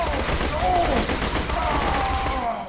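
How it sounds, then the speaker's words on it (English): Enemy gunfire in Borderlands 2 crackles in a continuous rattling barrage, loud and busy throughout, with a person talking over it. "who the fuck is shooting me?"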